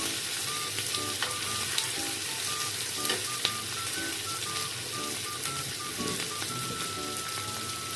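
Pork belly liempo frying in a hot pan, a steady close sizzle and crackle with small pops throughout, no talking.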